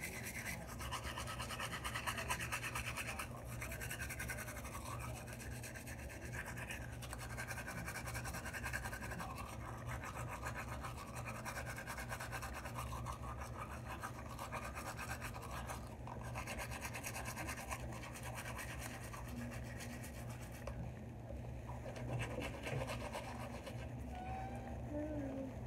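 A toothbrush scrubs teeth at night with a close, continuous bristly rasping, steady throughout, while someone talks faintly in the background.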